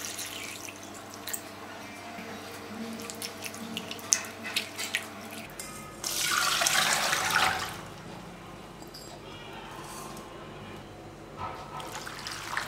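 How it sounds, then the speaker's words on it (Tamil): Cut potatoes for French fries are swished and rinsed in water to wash off starch, with soft trickling and splashing that swells into a louder burst of water partway through. "இப்போ இதை தண்ணியில போட்டுட்டு ஒரு 3 டைம் நல்லா அலசி எடுத்துக்கோங்க"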